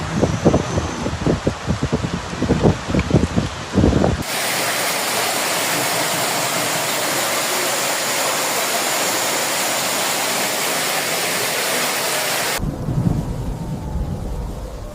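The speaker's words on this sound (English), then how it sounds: "Heavy rain and hail slammed into the city almost simultaneously." Heavy rain and hail roar in a dense, steady wash like rushing floodwater during a flash-flood storm in Jaén, with a voice and scattered noises before and after the downpour.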